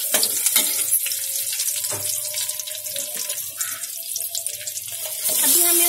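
Cumin and curry leaves sizzling in hot oil for masala dosa filling, a close crackling fry with scattered pops and stirring clatter, plus a running-water-like hiss that swells near the end.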